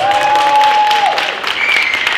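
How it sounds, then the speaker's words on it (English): Applause rises from an audience at a Eurovision fan club event, a loud close burst of clapping lasting about two seconds with a brief high whine of microphone feedback running across it. "give her a round of applause"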